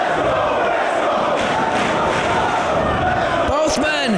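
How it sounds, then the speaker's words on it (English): A professional wrestling crowd roars and cheers around a bloody cage match, a dense continuous wall of voices with a few sharper shouts and thuds near the end. "Listen to this crowd."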